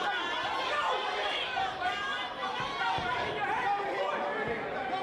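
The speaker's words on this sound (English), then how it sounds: "And you can hear this enthusiastic crowd." Excited crowd at a Saturday night youth novice bantamweight boxing match, a steady wash of cheering and chatter filling the venue for the whole stretch, with voices blending into a continuous roar.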